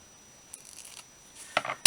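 Scissors cut through tape on a handmade paper craft tag: a few soft rustles, then one sharp, close snip at the very end.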